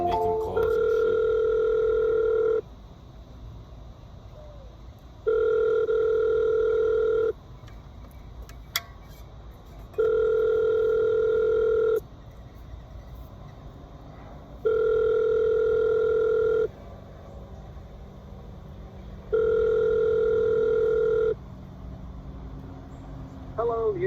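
A telephone call rings out before going to voicemail: five evenly spaced ringback tones, each about two seconds long, repeat steadily, clear and close, with quiet gaps between them.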